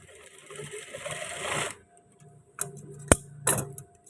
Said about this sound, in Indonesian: Kita kunci jahitan.